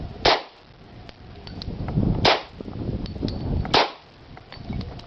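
Three sharp, loud shots from a Grand Power GPP4010MD 10mm pistol fired outdoors at a target, evenly spaced about a second and a half apart with faint background noise between.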